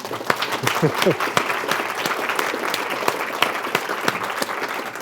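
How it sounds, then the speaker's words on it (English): A group claps steadily throughout at a town hall style organizing session, with dense, even applause and a few sharper individual claps standing out; a voice briefly sounds over it near the start. "let's have an applause for our"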